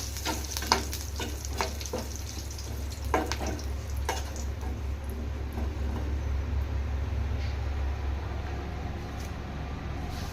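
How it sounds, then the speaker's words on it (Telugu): Curry leaves fry in hot oil left on a switched-off stove, for a Nellore-style fish fry. Close crackles and pops come early, then settle into a steady, continuous sizzle over a low rumble. "ఈ ఆయిల్ వేడికే ఈ కరివేపాకు ఫ్రై అయిపోద్ది."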